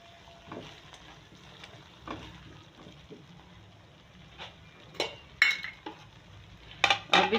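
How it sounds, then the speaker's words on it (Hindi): Whole spices and onions fry in ghee in a pan, a low steady sizzle under clinks and scrapes of a spoon stirring, with a few louder metallic knocks near the end. "घी में हमने इसको अच्छे से फ्राई करना है।"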